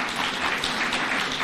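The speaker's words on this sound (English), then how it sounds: "Please stand up and clap for His Excellency." Applause from a standing audience at a formal event at KICC in Nairobi, a brief even wash of clapping heard from a distance.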